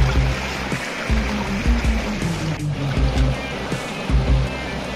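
Mountain river water rushing at the Bhalu Khola intake, a drinking-water source in Dharan, as a steady, loud broadband roar with continuous churning and no voices over it.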